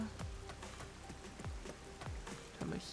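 Rain falls in the video game Rain Code, a steady soft patter with scattered heavier drops and low thuds, fairly quiet and with no voices.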